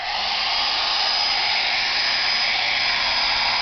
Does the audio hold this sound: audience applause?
no